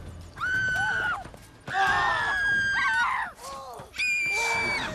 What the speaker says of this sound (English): are they screaming because I had my sword out?